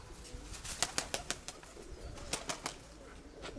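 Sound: pigeon flying, wings flapping

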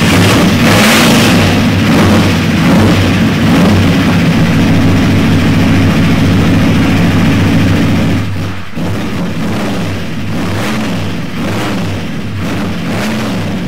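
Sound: 1969 Corvette hot rod engine revving

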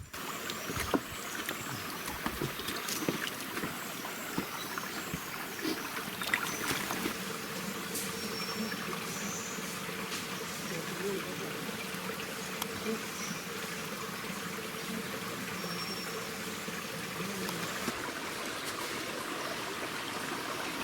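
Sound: forest waterfall and stream sounds

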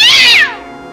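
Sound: cat screaming

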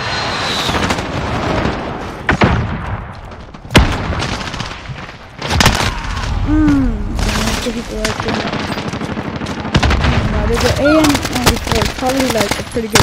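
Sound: precision airstrike with explosions and gunfire in a video game

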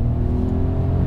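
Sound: mild-hybrid car engine working under acceleration

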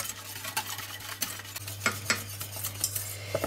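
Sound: vigorously stirring cream heating in a pot

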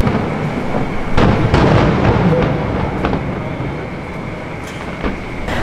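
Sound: fireworks going off

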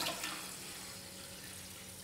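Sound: water being added to washed rice and lentils

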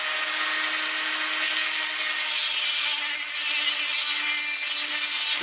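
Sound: Dremel rotary tool with metal diamond grinding bit

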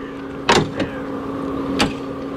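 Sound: soft close door on Mansory G63 G-Wagon

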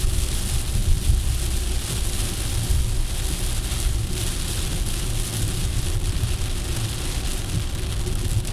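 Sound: rain while driving on a highway

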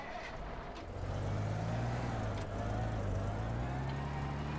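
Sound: vehicle driving in video game Teardown

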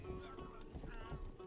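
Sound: horse hooves and whinny, from video game Rustler

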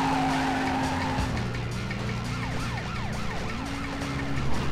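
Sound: car driving and skidding in video game

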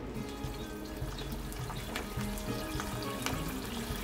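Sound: fried tofu added to heated seasoning liquid in pan

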